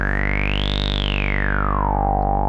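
A sustained tone from a Behringer Brains synthesizer module in LFO mode, with a buzzy, harmonic-rich body, its pitch sweeping up and back down in a slow wobbling modulation.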